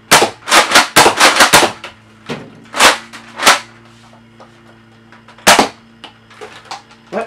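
A Nerf Mega Rotofury blaster fires darts in a fast volley of about seven loud, close snapping shots, followed by a few spaced single shots, with a low mechanical hum between them.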